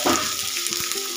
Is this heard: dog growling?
no